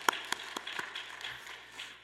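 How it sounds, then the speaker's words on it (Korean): A church congregation applauds, with a few sharp, distinct claps at a quick even pace that soon soften into a faint, scattered patter in a quiet room. "우리 하나님 앞에 영광의 박수 돌리겠습니다"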